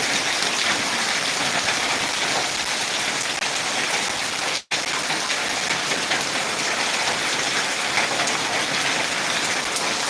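Steady, heavy rain pours continuously, a dense hiss of drops hitting surfaces, with a brief gap partway through.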